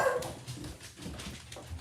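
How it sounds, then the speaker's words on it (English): A dog named Sam makes brief barks and whimpering yips indoors, heard at moderate distance in short bursts without talk. "Let's go see what Sam's barking about."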